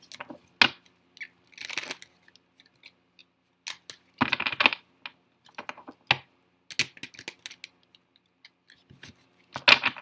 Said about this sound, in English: Just got a couple of shuffles